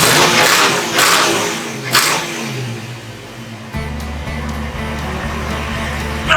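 A 1990s Ford Mustang engine in a Canadian winter, loud and close, revving hard at first, then dropping to a steady rumbling idle after a sharp change in tone.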